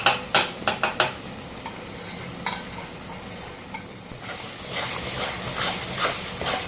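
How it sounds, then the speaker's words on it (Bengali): Coconut paste gravy with poppy seed and mustard stirred in a pan: a few sharp spoon scrapes at first, then a steady low sizzle with occasional clinks, close and moderately loud, no voices. "এটাও আমি ভালো করে মিক্স করে নিলাম পোস্ত আর সর্ষের সাথে, মশলার সাথে।"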